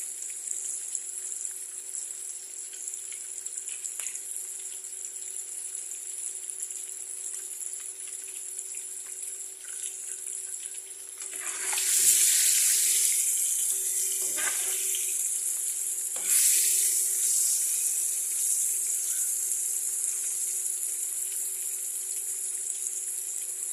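Eggs fry lightly in a pan with a soft, steady sizzle throughout, growing louder in two brief bursts of crackling midway and then settling back to an even hiss.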